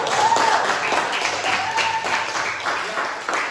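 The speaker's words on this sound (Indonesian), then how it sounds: "tepuk tangan dong buat dia" A small group of students claps for a classmate in a lesson, an even, fairly loud patter of hands lasting a few seconds with a faint tone briefly above it.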